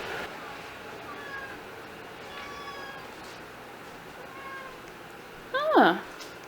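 A pet cat lets out a single short meow near the end, close and clear against a quiet indoor room with faint background noise.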